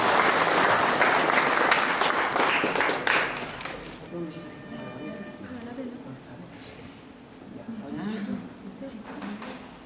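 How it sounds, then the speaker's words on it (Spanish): A crowd at a church baptism bursts into loud, dense applause that gradually thins and fades, with people talking and murmuring throughout as the clapping trails off. "Vamos pues ahora a dar un aplauso a Estefanía"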